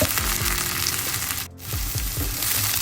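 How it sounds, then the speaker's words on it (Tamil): Cut curry chillies dropped into carrot and onion frying in oil, giving a steady close sizzle with soft stirring scrapes, a brief dip partway through. "இந்த நேரத்தில் நான் வெட்டி வச்சிருக்கிற கறிமிளகாயை சேர்க்க போகிறேன்"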